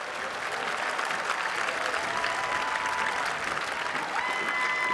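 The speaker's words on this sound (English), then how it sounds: "Round of applause for all our parents." A large graduation ceremony crowd gives the parents steady, sustained applause, dense and even throughout, heard from within the audience.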